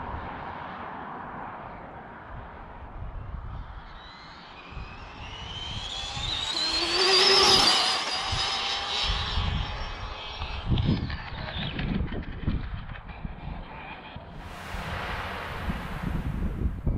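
An Arrma Limitless RC car doing a full-throttle speed run on a new road beside a busy street: a high motor whine rises sharply to a peak mid-clip, then fades, amid wind buffeting and passing traffic.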